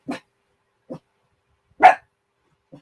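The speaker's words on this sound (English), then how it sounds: "Crazy dog." A dog barks in short, separate bursts, four barks spread unevenly with one louder bark in the middle, fairly close in an otherwise quiet room.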